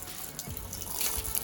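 Water pours out of a 200-litre fish tank pierced by an arrow from a 60 lb longbow, a steady splashing gush building louder toward the end, close by and with no talk.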